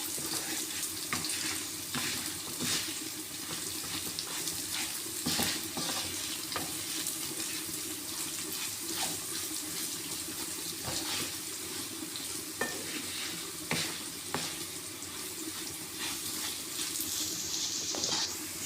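Karacadağ rice being toasted and stirred in a pan for pilaf, a steady close sizzle with continual scraping and rustling of the grains, no talk.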